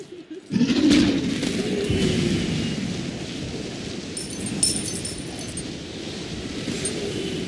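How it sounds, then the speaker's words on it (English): Kukulkan's storm ability in Smite unleashes a sudden deep rumbling boom of thunder that rolls on loudly for several seconds, with faint crackling and chirp-like effects layered above it. "The storm strikes."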